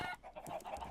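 A Minecraft chicken clucks in short, repeated bursts, close and fairly loud, with no talking over it.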